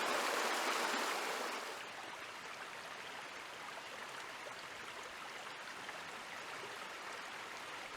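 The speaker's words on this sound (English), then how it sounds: "fast-flowing upland streams such as this one that winds through the woodland" A fast-flowing upland woodland stream near Haweswater in the Lake District rushes steadily and close by, a continuous broadband wash of water with no voices, slightly louder at the start.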